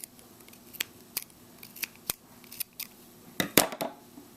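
Scissors snipping through crochet yarn, a series of sharp, close, separate clicks spread over a few seconds, ending in a denser cluster of snips, no voices.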